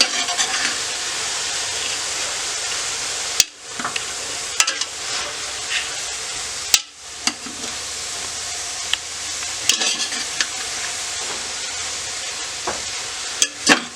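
Egg and chopped meat get stirred in a hot sautéing pan, giving continuous close sizzling broken by a few sharp spatula scrapes and knocks against the pan, with no voices.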